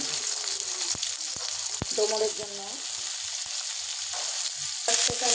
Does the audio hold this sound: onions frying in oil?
yes